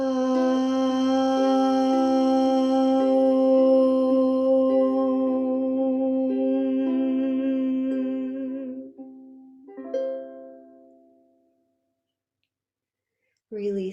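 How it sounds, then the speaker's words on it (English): Yoga class group chanting one long, steady Om in unison, a sustained harmonic hum held for about nine seconds before fading to silence. "Inhale deeply for a long Om."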